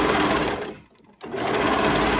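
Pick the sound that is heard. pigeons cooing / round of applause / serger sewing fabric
serger sewing fabric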